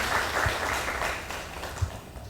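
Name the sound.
audience applause at a forum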